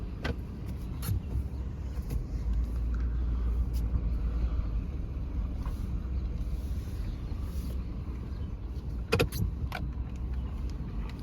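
A vehicle rolls slowly around an outdoor farm equipment auction lot, its low engine rumble steady throughout, with a few brief clicks and jangles and sharp knocks near the end.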